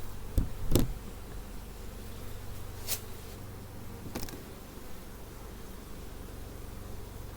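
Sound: swarm of honey bees at a hive

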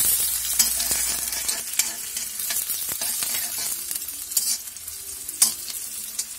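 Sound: green chillies frying and being stirred for chow mein

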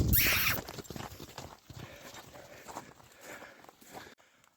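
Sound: horses walking, hooves clip-clopping

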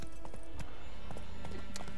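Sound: horse hooves clip-clopping in the video game The Witcher 3

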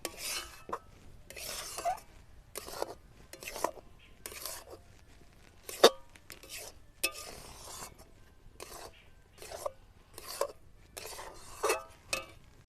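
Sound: stirring semolina in a wok while cooking

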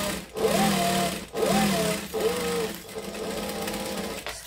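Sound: sewing machine backstitching

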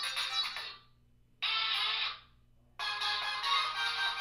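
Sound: preloaded ringtone playing on m360 phone

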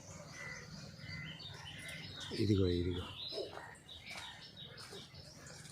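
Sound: small birds on a guava tree

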